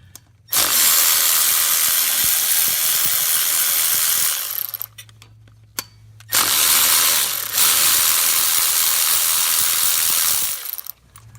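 A ratchet backs out the 8mm bolts on the oil feed tube of a 2011-2016 Ford F-150 3.5L EcoBoost, in two long, loud, continuous whirring bursts separated by a short quiet pause.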